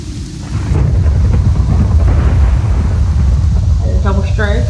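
A loud crack and deep rolling boom of thunder from a double lightning strike in a storm, rumbling on steadily, with a short burst of speech near the end.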